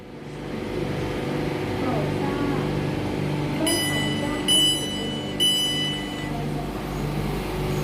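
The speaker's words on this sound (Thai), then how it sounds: "ขบวน Airport Rail Link ค่ะ ออกเดินทางจากสถานีพญาไท" An Airport Rail Link train pulls out of Phaya Thai station with a steady, close rumble, and a few bright electronic beeps ring out partway through.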